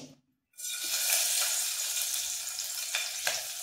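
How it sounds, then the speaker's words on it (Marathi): Five to seven garlic cloves drop into preheated oil for a Marathi masoor amti, bursting into a loud, steady sizzle after a brief moment of silence and then crackling on close by. "तर आपण याच्यात लसूण टाकणार आहोत"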